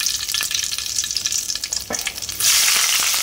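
Curry leaves hit hot oil with a loud, steady crackling sizzle that runs throughout, with a brief spatter near the middle and a sharper, denser burst of frying near the end.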